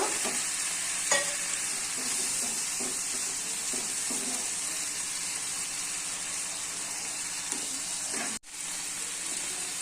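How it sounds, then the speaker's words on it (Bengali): Masala for a katla fish curry sautéing in oil after a splash of water, with a steady close sizzle and repeated scraping stirs of a spoon across the pan, a brief break near the end. "এবার কষানো হচ্ছে। কষিয়ে দেখো কষানো হয়ে যাচ্ছে, তেল ছাড়ছে।"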